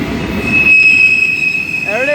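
A CSX Q415 manifest freight train rolls slowly past the Point of Rocks station, with a steady high metallic wheel squeal ringing over low rumble, loud and close throughout.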